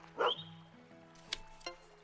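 Pet dog in the Potion Permit video game giving a single short bark, followed by a few faint yips and soft game sounds.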